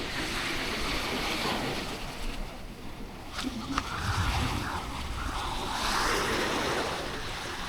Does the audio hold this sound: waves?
yes